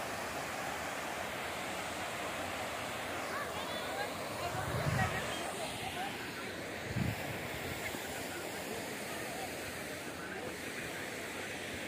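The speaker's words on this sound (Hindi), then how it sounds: "देखिए, कितना सुंदर झरना" Waterfall and flowing water at Nishat Garden, Srinagar, Kashmir, a constant loud rushing wash throughout, with a voice talking over it briefly in the middle.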